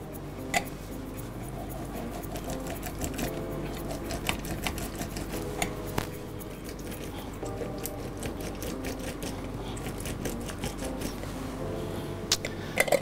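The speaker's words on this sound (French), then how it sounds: "presser les citrons" Fresh lemons are pressed on a juicer that whirs steadily and close by, with scattered clicks and knocks throughout and no voices.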